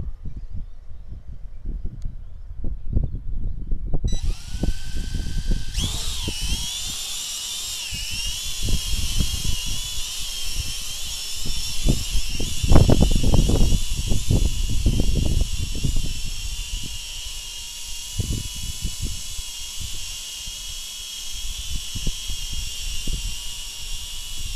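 An XK X300 quadcopter drone's motors whine up during auto takeoff, a steady high-pitched buzz that starts abruptly and holds for about twenty seconds, over scattered nearby handling clicks and thumps.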